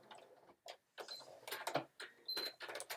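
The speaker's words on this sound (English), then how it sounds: "I can hear my poor sewing machine going," A sewing machine stitches through a bulky seam on a Sew Together Bag in short, labored bursts of mechanical whirring and ticking, separated by brief pauses, close and moderately quiet.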